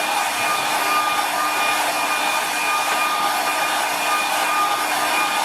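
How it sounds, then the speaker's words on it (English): A hair dryer blows steadily and loudly throughout, a constant airy whoosh with a faint whine, no pauses or voices. "Just use the hairdryer"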